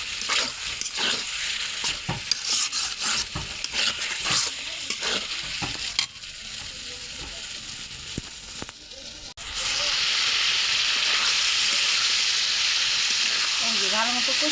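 Beef liver is sautéed and stirred in a hot pan, with busy scraping and sizzling that gives way to a loud, steady frying hiss near the end.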